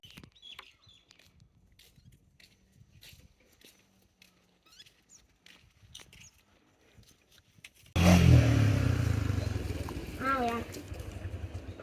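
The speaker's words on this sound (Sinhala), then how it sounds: "අන්නර පාරේ යන්න තියෙන්නේ දැන් බයික් එක උඩටම" A motorcycle ride on a road near Bellwood, Kandy: quiet wind-buffeted rustling for several seconds, then a loud engine roar cuts in abruptly and continues steadily to the end.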